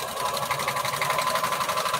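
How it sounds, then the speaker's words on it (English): A sewing machine runs through patchwork bandana pieces, its needle hammering in a quick, regular rhythm, close and steady with no talk. "let's go ahead on and sew these pieces back together"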